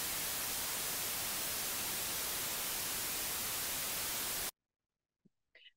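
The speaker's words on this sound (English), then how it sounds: "I placed an underwater speaker and broadcast broadband white noise from the speaker for 2 minutes" Broadband white noise broadcast from an underwater speaker at a shoreline, a loud, even hiss held steadily for several seconds before cutting off abruptly into near silence with a couple of faint knocks.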